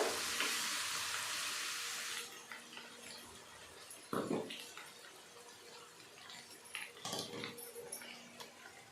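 Tomato, onion and cashew paste dropped into hot oil for a dhaba-style paneer peas curry gives an intense hissing sizzle for two seconds, then fades to a quieter bubbling with scattered clatter.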